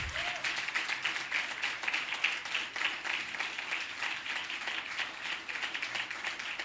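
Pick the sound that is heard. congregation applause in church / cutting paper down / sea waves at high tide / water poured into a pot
congregation applause in church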